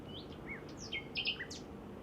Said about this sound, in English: There's nothing else really singing apart from the nightingale.